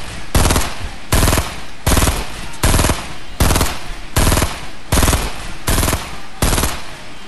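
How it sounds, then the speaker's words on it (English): Rapid bursts of automatic gunfire from players fighting in the battle royale game Fortnite, about nine loud, evenly spaced volleys with short gaps between them, close and without talk. "They're trying to shoot at us."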